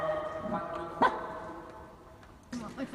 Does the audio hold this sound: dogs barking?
yes